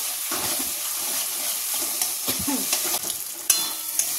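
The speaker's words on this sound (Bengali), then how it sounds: "নুন, হলুদ, জিরে আর কাশ্মীরি লাল লঙ্কার গুঁড়ো, এটাকে ভালো করে কষিয়ে নেব" Salt, turmeric, cumin and Kashmiri chili powder fry in oil, giving a bright steady hiss with soft stirring scrapes that grow busier toward the end, ending in a couple of sharp clinks.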